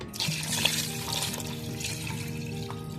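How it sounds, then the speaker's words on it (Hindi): Water poured from a glass into a karahi pot of mutton cooking with yogurt, a continuous close, steady gurgling splash with no talk. "3 गिलास पानी डाल रही हूँ मैं।"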